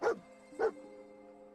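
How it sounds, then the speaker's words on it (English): Dogmeat, the dog companion in Fallout 4, gives two short barks about half a second apart, fairly close, followed by a quiet steady hum of game ambience. "I knew Dog Meat would sniff our man out"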